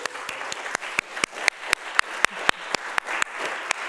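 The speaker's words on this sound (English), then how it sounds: "So I just want to clap for you." Rhythmic clapping in a church congregation during a worship celebration: a steady beat of sharp, evenly spaced claps about four per second. The claps ring out clearly against the room's diffuse ambience.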